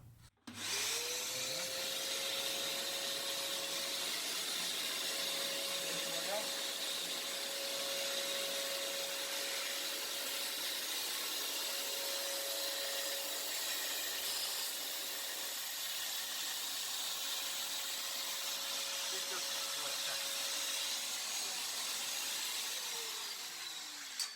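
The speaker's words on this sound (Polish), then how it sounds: "jak włączymy odkurzacz i przełożymy do miejsca wyrzucenia, to sprzęt się przysysa" A vacuum cleaner hooked to a drill dust-collector attachment runs steadily for over twenty seconds, a loud continuous whine with a constant pitched tone that starts abruptly and winds down at the end.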